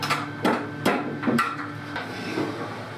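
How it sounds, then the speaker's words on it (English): Number 8 screws, 1 1/4 inch, being driven into wood, with a few sharp knocks and a faint whirring tone behind them, close and alone. "Screw those right down. Use a power screwdriver if you like."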